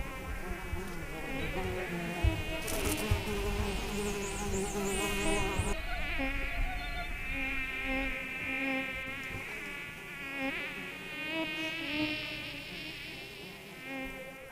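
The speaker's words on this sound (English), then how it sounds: "The insects are prehistoric." Dense insects drone and buzz continuously and loudly in a dusty clearing of a Mayaruna jungle village, with high whining tones layered over a steady hum.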